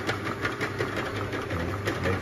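A round bottle clamp labeling machine, model LT-150C, runs its conveyor with a steady mechanical hum and faint periodic ticking, continuous and close, with no talk.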